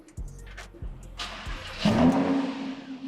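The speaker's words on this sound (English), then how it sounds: "let me just start this car up" Lamborghini Huracan engine cold start: a few starter cranks, then the engine fires with a loud roaring rev that settles into a high idle, heard close up.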